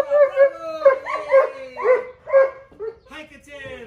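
A dog gives a run of whining, yelping vocalizations in a rhythmic series of rising and falling cries, close and fairly loud, while a person nearby speaks encouragingly.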